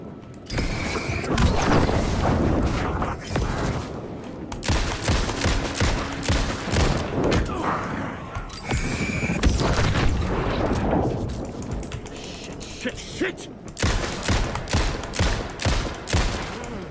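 Dense gunfire from the Alan Wake 2 video game on PC: rapid volleys of shots and booms, loud and close, in long sustained bursts with brief pauses around the middle and near the end.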